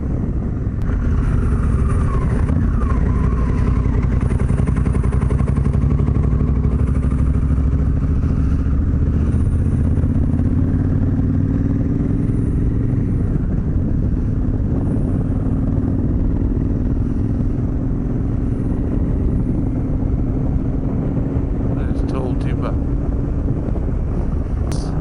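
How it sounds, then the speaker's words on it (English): Motorcycles on a road in both directions during a MotoGP trip, their engine drone steady and loud under heavy wind buffeting, with pitch shifting slowly as bikes pass; faint voices briefly underneath. "bikes going both ways."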